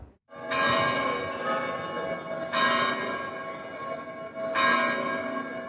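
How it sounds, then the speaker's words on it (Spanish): The Wamba bell, cast in 1219, at Oviedo Cathedral tolls three times at steady intervals, each deep resonant strike ringing out and decaying into the next, with no voices. "La campana que suena es la Bamba, en la catedral de Oviedo."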